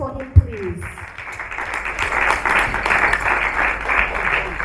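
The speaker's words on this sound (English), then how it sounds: "Dr. Oji, a round of applause for him, please" A round of applause from an awards ceremony audience for an honoree stepping forward, starting after a brief thump and building into steady moderate clapping that continues to the end.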